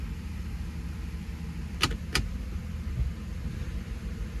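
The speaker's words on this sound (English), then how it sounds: "There's the misfire a little bit right there." A Ford vehicle engine idling with a slight misfire, a steady low rumble broken by two brief sharp clicks close together midway.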